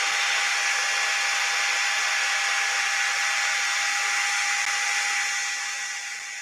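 An old Makita drill spins a long M4 set screw, giving a steady, high-pitched whine with a strong tonal hum that holds evenly for several seconds, then tapers slightly at the end.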